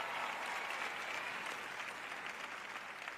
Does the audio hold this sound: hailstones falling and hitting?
no